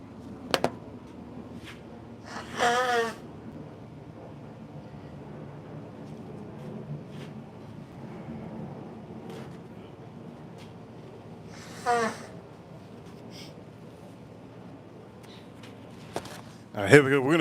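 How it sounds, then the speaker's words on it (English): A person blows their nose in a few short, loud, breathy bursts spread across an otherwise quiet stretch with low background hum. "Let me blow my nose real quick."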